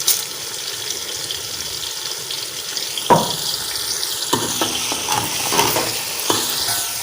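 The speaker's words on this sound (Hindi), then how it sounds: "मसाला हमारा रेडी हो गया। अभी हम डाल देते" Whole spices such as bay leaf, cinnamon, star anise, black pepper and cumin fry and get stirred in a pot for beef kabab pulao, a steady sizzle with sharp clinks and scrapes of the spoon in the second half.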